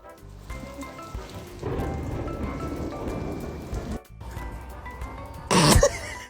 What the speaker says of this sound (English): Everyone has to be afraid of the storm.